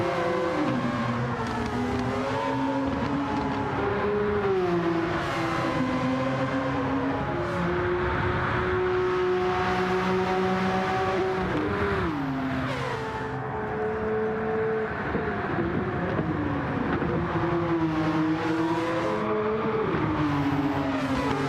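Group C race cars, including a Porsche 962, lap Monza in Gran Turismo 7, their engines droning loudly and continuously with rising and falling revs as several cars accelerate and shift through the race, with no talk.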